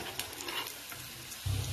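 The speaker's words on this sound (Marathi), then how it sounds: "आता हे पॅटीस आपण असे उलटवून घेणार आहोत" Rava (semolina) patties frying in oil on a flat griddle, a soft steady sizzle at low level, with a brief louder low rumble near the end.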